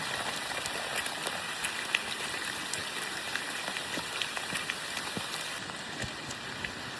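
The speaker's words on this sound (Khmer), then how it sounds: "ទៅភ្លៀងធ្លាក់លើភ្នំអរ៉ាល់ឲ្យតែមានភ្លៀងធ្លាក់គឺមេឃចោះអាប់ស្អាត" Steady rain falls on Mount Aural in Cambodia during a mountain trek, a constant dense patter with scattered nearby drops, moderately loud and with no voices over it.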